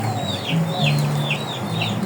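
A yellow crossbreed rooster crows repeatedly in a steady rhythm of short calls, close to the microphone against constant outdoor noise, with no talking.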